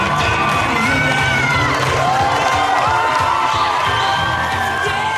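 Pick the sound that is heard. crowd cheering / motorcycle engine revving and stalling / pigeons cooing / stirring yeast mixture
crowd cheering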